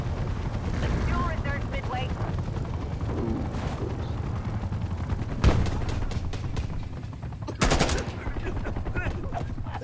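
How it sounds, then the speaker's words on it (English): Gunfire rattles in repeated bursts during a Call of Duty Black Ops Cold War match with an attack helicopter overhead, loud continuous battle noise with a low rumble, two sharp impacts, and a player talking over it. "I had a attack helicopter here."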